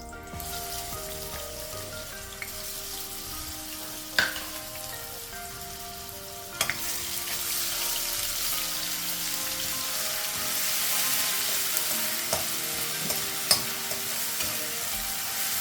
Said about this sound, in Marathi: आता हे तूप गरम झालंय, आपण त्यात थोडे हे शहाजिरे टाकणार आहे।